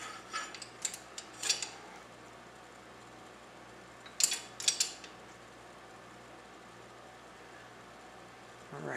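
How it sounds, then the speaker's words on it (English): A hand pump on a shear test rig for Beeman Chief replacement valve screws, heard as a few short clicking, ratcheting strokes in two brief clusters, fairly close, with quiet gaps between. "First thing we're going to do is pump this up a little bit, take up the slack in the system."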